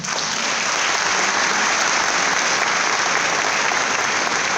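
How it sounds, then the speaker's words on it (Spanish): A crowd at a Holocaust remembrance day event applauds loudly and steadily, a dense wash of clapping that holds without a break throughout. "¿por qué no un aplauso?"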